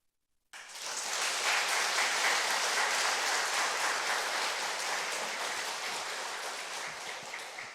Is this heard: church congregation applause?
yes